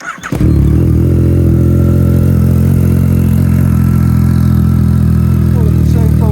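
A Yamaha MT-09 Gen 1 motorcycle with 27,202 miles starts and settles into a loud, steady idle up close, its engine drone continuous and even for several seconds with light mechanical clatter and no voices.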